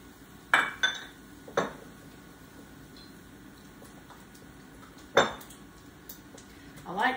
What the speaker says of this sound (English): We are going to put the cream cheese with the Greek yogurt. And we're going to mix those two real good.